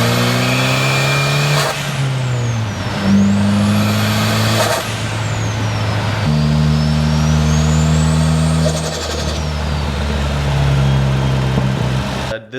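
A 2016 Ford Focus ST with a big 4849G Pulsar turbo and T51R mod revs loudly and close, its engine note climbing and falling through several sweeps with a whistling turbo rising over the top and a brief hiss of released pressure.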